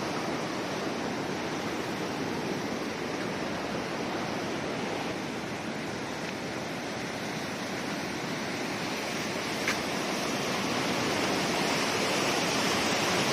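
Swollen river after two days of heavy rain, a steady broadband roar of fast-flowing water, loud and unbroken throughout with no voices.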